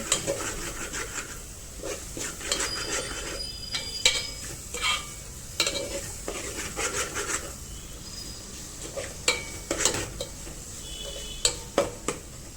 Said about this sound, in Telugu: ఇప్పుడు బాగా మసాలాస్ని మనం కలుపుకుందాం